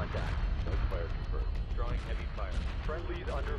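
Destroyer and ion cannon fire at a mothership in Homeworld Remastered, rumbling booms and crashing weapon blasts under voice radio chatter, dense and steady throughout.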